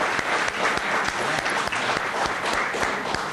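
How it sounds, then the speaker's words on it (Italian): Audience at a local commemorative presentation breaking into applause, dense steady clapping from many hands, fairly close and continuous through the short stretch. "Faccio partire io l'applauso."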